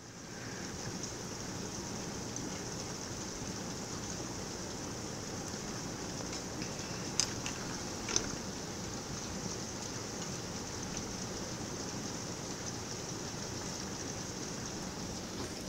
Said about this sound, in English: there's some rain pouring in the house